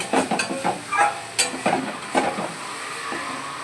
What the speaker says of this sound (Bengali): এইবার ভালো করে মশলাটাকে কষাবো